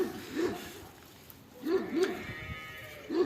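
Several sheep bleat nearby in a straw-bedded pen on a farm, one call early and a quick cluster of bleats later, over a quiet rustling background.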